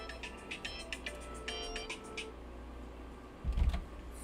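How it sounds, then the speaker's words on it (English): A phone alarm ringing indoors: a rapid series of short, bright electronic tones repeating in bursts for about two seconds, fairly quiet, followed by a brief thump and no speech. "Phone alarm."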